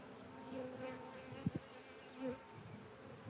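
Honey bees buzz steadily beside a hive during queen-rearing work, a close, continuous drone with a few louder passes near the listener.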